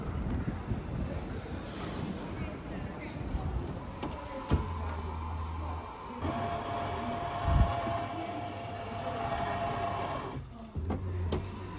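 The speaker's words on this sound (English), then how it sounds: "This is the train I'm on here, going down to King's Cross." Rumbling interior of a moving train from Leeds to London King's Cross, with steady low hum, rattles and mechanical whine rising and falling throughout, no voices.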